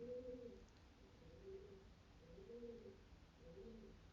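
Doves outside a window coo faintly in the distance, several soft hooting phrases recurring every second or so against a quiet, hissy background.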